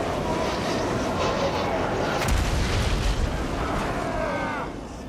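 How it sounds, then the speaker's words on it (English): Gyrocopters firing in a Total War Warhammer 3 battle, a continuous roaring wash of booms and explosions with a heavier blast midway, fading slightly at the end. "I'm getting sniped by gyrocopters right now,"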